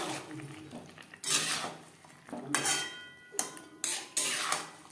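Fried potato and cauliflower pieces are stirred with spices in a pan, producing several sharp scraping and clanking bursts of a spoon against metal at uneven intervals, close and fairly loud, with no talk.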